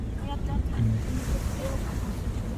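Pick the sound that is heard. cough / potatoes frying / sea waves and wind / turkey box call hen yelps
sea waves and wind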